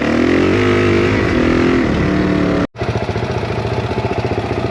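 A Suzuki DRZ400e dirt bike engine roars close and loud on a shakedown ride, revving through gear changes, then a brief cut before a pulsing, throbbing drone resumes.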